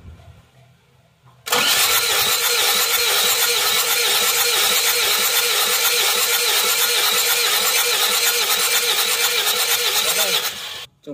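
Isuzu Panther diesel engine cranking on its starter during a compression test, a loud steady churning with rhythmic compression pulses running about nine seconds after a quiet start, then cutting off.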